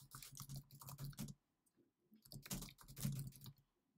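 Rapid computer keyboard typing, dense clattering keystrokes in two bursts with a short pause between, close and fairly loud, during a Laravel coding session.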